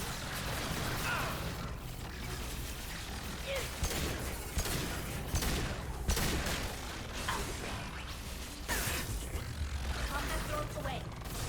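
Heavy pistol shots ring out in the video game Mass Effect 2, scattered as sharp bursts through a dense, continuous bed of game noise and action effects.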